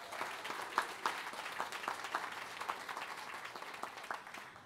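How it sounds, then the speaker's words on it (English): Applause for school award winners at a school board meeting: a crowd claps steadily throughout, with scattered sharper individual claps, moderately distant and fairly faint, with no talk over it. "please give our 2023-24 Shine Light Award winners a round of applause"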